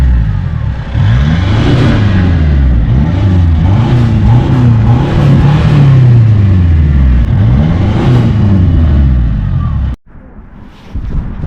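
Mercedes 2.2 litre diesel engine with a slight hole in the exhaust, revved repeatedly up and down in loud close bursts with a raspy, leaky exhaust note, then cutting off abruptly before a quieter tail.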